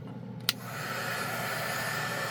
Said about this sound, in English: You can hear the difference in the heater